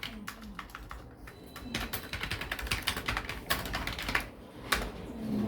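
Fingers typing a name on a computer keyboard, a steady run of close, crisp key clicks with brief pauses between bursts, no talking.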